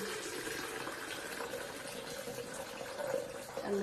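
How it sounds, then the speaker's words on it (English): A litre of filtered water pours into an Optimum Evolve blender jug for cashew nut milk. The splashing gush is continuous and close, with a rising liquid tone near the end. "I'm then going to put my water in."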